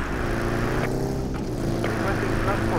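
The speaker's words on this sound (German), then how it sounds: "Da ist der verdammte Hubschrauber." A helicopter in the video game Battlefield 2 drones with a steady, loud engine and rotor hum that fills the whole moment, with someone talking over it.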